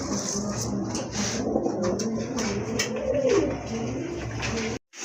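Shirazi pigeons coo in a loft, low rolling calls repeating steadily through a busy, close background.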